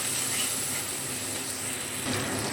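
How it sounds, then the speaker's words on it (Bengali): Tomatoes and turmeric being stirred in a pan, a steady close sizzle and hiss with faint scraping, continuous and even across a couple of seconds with no talking. "হলুদটাও টমেটোর সঙ্গে একটু নেড়ে নিচ্ছি"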